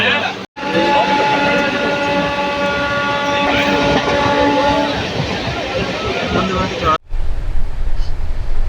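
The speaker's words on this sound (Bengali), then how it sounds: "এইখানে দাঁড়িয়ে আছে বন্দে ভারত দেখতে পাচ্ছ" A Vande Bharat train at a railway station near Durgapur gives a loud, close rumble with a sustained multi-tone horn blast lasting several seconds, then a cut to heavier rolling noise; voices are faintly present.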